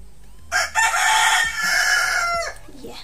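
A single loud rooster crow rings out nearby, a long drawn-out call lasting a couple of seconds with a rising start and fading end.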